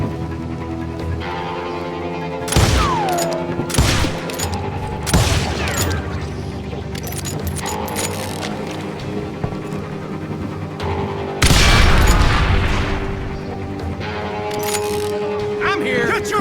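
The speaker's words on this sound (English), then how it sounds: "They're shooting in the street!" Bursts of gunfire in a western town street from the video game Call of Juarez: Gunslinger, loud repeated shots and booms in several volleys with continuous game sound underneath.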